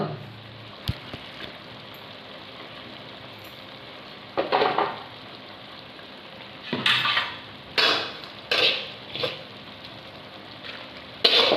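Chicken cooking in a pot for Kannada chicken curry gives a quiet steady sizzle, broken by several short loud bursts of stirring and scraping clatter.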